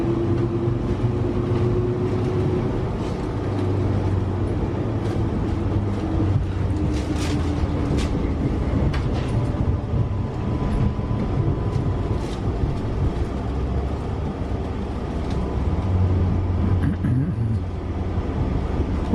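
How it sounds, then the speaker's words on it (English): Locomotive-hauled train rolling across a flyover, a loud continuous rumble and rail roar that holds steady throughout with a faint brief squeal near the end. "There's a loco, look, up on the flyover."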